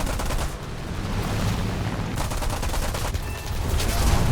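Rapid cannon bursts from an early Spitfire in a Malta air-combat video game, a dense, continuous rattle of loud gunfire with slight dips in intensity, filling the whole stretch without voices.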